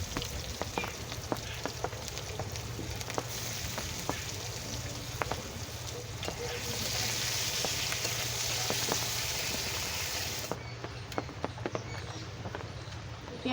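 Onions fry in hot oil for a katla fish curry with potatoes, giving a steady crackling sizzle with scattered pops and a brief louder hissing stretch in the middle.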